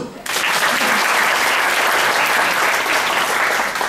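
Seminar audience breaks into loud, dense applause during a motivational talk, bursting in suddenly after a brief quiet moment and holding steady and full for several seconds with no voices over it.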